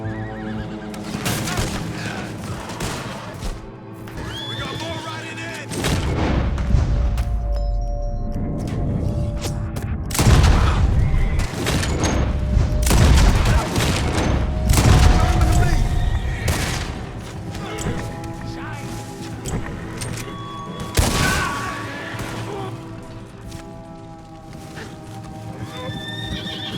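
Horses neighing and hooves clip-clopping as riders gallop in during a Red Dead Redemption 2 shootout, loud and sustained across the whole stretch, with scattered gunfire booms mixed in and no talk.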